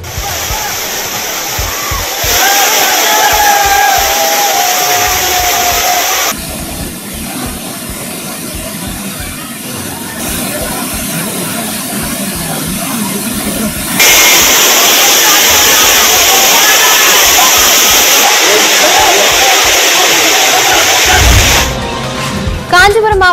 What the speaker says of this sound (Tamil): அருவிகளில் நீர்வரத்து அதிகரித்துள்ளது